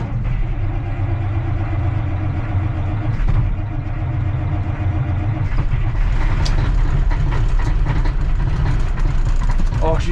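Heavy truck engine cranked and run at full throttle, a loud continuous low rumble and roar that swells and roughens toward the end, with a voice talking over it.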